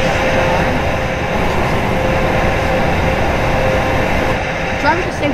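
A train driving on tracks in a video game, a continuous steady rumble with a faint whine and rolling hum, loud and unbroken throughout.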